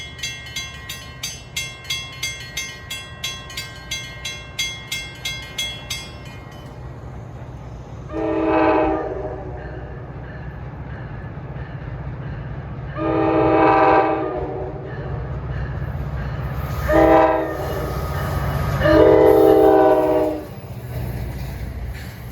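An NJ Transit PL42AC locomotive sounds its horn in several long blasts, loud and near, following a rhythmic bell-like clanging at the start, with railcar rumble underneath.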